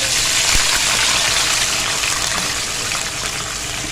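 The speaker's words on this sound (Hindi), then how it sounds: "अब इसमें डालेंगे हम पानी।" Water pours steadily into a cooking pot for chicken yakhni pulao, a loud, continuous gushing splash that stays alone for nearly four seconds.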